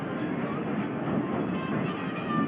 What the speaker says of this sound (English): please remain seated until the train is completely full and complete stop inside the station